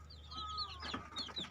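Chickens cluck in a breeding coop being cleaned, several close, soft clucks and chirpy calls overlapping in a busy, continuous stream with a steady low hum beneath.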